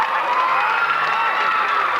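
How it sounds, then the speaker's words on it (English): A live audience at a stage hypnotist show applauds and cheers loudly and steadily, a dense wash of clapping and shouting voices with no breaks. "Ladies and gentlemen, a huge round of applause for this guy."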